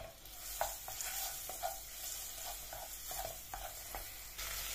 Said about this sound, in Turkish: İçine 2 yemek kaşığı biber salçası, 1 yemek kaşığı domates salçası ekleyip kavurmaya devam ediyorum.